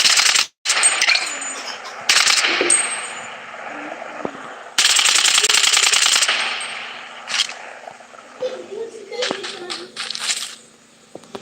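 Video game gunfire comes in sharp bursts and rapid volleys, with metallic clinks and clatter between them, loud and close, and game voice callouts heard in between.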